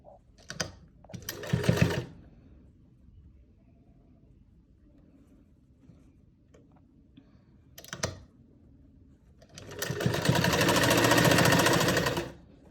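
A sewing machine runs stitches along a salwar in short bursts: a brief run, a longer one, a quick burst, then a sustained loud run near the end, with quiet pauses between.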